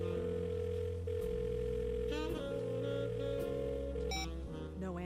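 A phone call in the video game Blackwell Deception rings on and on unanswered, with repeated electronic ring tones layered over steady in-game background music, at low volume.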